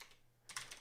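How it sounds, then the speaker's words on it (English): Keys of a computer keyboard are tapped in a short burst of a few quick clicks, near and fairly quiet, following a brief pause. "Talking and typing at the same time."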